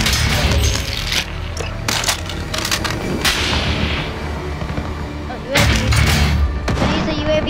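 Heavy .50 caliber sniper rifle shots from Call of Duty, several sharp cracks standing out from a dense, noisy battle backdrop. Two loud reports land near the start and another burst comes late.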